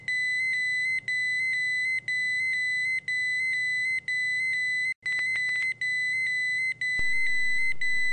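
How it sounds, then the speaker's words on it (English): A GasTech Australia Multipro portable gas detector sounds its alarm during a bump test, emitting a loud, piercing electronic beep pattern in regular one-second pulses, repeating steadily with brief gaps and no talk. "The alarms should activate."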